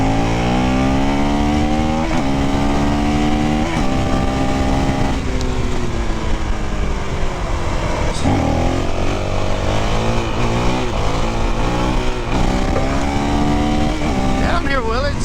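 A 2022 Honda CRF 450 RL dirt bike engine revs repeatedly, its pitch climbing and dropping through several throttle blips and gear changes, loud and close, with a rider's voice speaking over parts of it.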